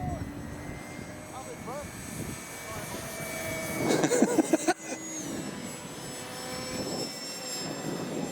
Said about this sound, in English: Oh, it's going to crash now. The Spitfire.